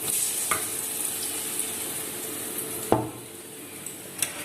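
Sukiyan, a stuffed sweet fritter, frying in hot oil: a steady close-up crackling sizzle with a few sharp pops and scrapes of a ladle against the pan.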